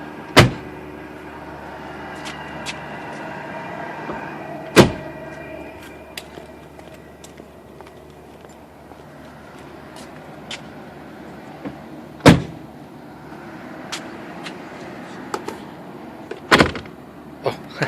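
Doors of a 1983 Mercedes-Benz 300SD turbo diesel with a Euro body are opened and shut, giving four sharp, solid thunks spaced several seconds apart, with quiet rustling and small clicks between them.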